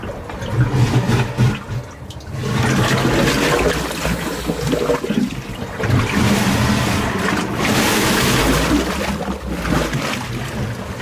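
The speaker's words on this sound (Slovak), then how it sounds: "pohľad na vlny, ktoré pri náraze do skál vytriskávajú z dutín v skamenelých kmeňoch" Sea waves crash against rocks and petrified tree trunks on a Greek coast in Laconia, a loud continuous surging roar with repeated swells and splashing and no voices.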